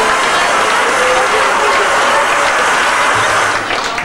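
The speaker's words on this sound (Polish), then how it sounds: "Duże brawa!" Applause at a wedding reception, a loud, continuous roar of many guests clapping together, holding steady for several seconds before easing slightly at the end.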